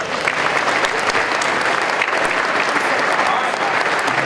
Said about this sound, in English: I want to have everybody give themselves a round of applause